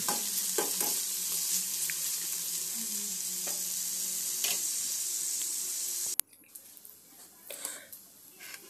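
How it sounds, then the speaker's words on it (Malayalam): Onions sautéing in a pan for a banana-peel thoran, a steady close sizzle and frying hiss with light stirring, cutting off abruptly near the end to a quieter background with faint clatter. "അപ്പോൾ ആ ഒരു രീതിയിൽ വഴറ്റിയെടുക്കാം"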